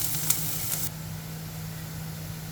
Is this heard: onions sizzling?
yes